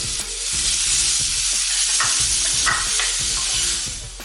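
Tomato tossed into small onions sautéing in a pan for Kerala dry prawn theeyal, a loud, close sizzle with rhythmic stirring scrapes throughout and no talking.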